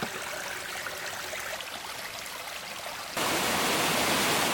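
Steady rushing water of the waterfall at Panther Creek Falls, a broad continuous hiss that jumps suddenly louder and closer partway through.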